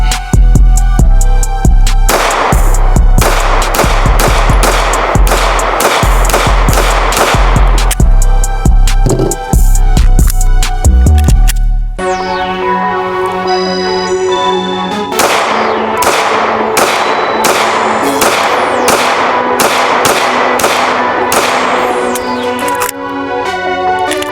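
A Canik MC9 pistol fires long strings of loud, sharp shots in quick succession, close by, with a short pause partway through and ringing echoes between bursts.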